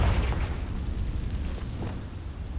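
A Confringo fire spell from Hogwarts Legacy erupts in a deep, rumbling blast that fills the low end and rolls on steadily for a couple of seconds without any voice.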